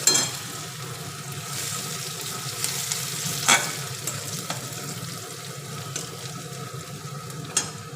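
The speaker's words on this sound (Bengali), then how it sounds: "রসুনটা একটু লালচে করে যেই ভাজা হবে" Garlic frying in oil toward a reddish colour crackles in a continuous sizzle, broken by a few short utensil knocks and scrapes, with no one talking.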